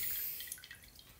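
Blue dye falls in a few small drops into a toilet bowl of water, making soft, close plinks over a faint background hiss.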